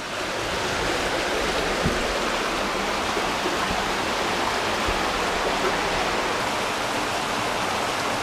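Water rushing steadily over rocks in a brook, a dense continuous hiss with no pauses, close and fairly loud.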